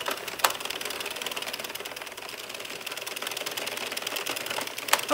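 Rapid, even mechanical clicking from a Sentro circular knitting machine being cranked while knitting a fringed infinity scarf, a continuous ticking rattle with a few sharper clacks, close and moderately quiet.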